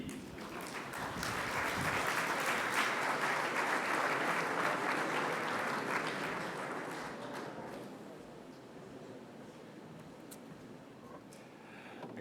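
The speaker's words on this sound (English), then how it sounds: "your warm applause, please" Conference audience applause greeting a speaker at an EU transport funding event, dense clapping that swells, holds for several seconds, then tapers to a scattered few claps.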